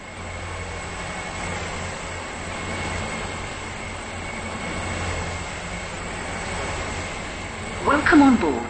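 A passenger train runs in the Stepford County Railway video game, a steady low rolling rumble heard from on board, with a short louder burst near the end.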